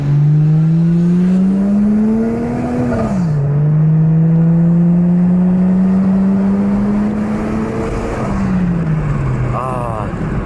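A car with a stock 1J engine revs loudly and continuously nearby, its pitch climbing, dropping sharply, then holding steady before easing down, with faint background noise throughout.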